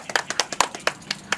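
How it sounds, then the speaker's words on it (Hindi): Hands clap at a wedding ceremony in a rapid, slightly uneven burst of about a dozen sharp, close claps. "ताली मार हाँ ताली मार"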